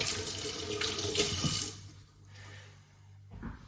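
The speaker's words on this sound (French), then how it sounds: "Voilà, ça rince les mains." Tap water runs steadily into a kitchen sink as hands are rinsed free of flour, a close, full splashing rush that eases off about halfway and swells again briefly near the end.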